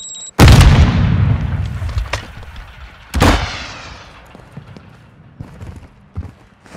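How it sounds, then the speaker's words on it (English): Sticky grenade detonating in the Warzone 2 video game, a sharp loud blast with a rumbling tail, followed by a second heavy boom about three seconds later and scattered gunfire and clatter fading out. "Sticky grenade!"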